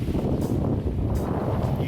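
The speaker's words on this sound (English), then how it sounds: "It's a little breezy today." Breezy wind buffets the microphone at Fort Flagler State Park on the shore, a steady low rumbling rush with brief gusts.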